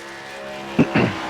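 NASCAR race car at Indianapolis running in extreme fuel saving mode while being clutched, steady engine drone with two brief sharp surges near the end, no voices.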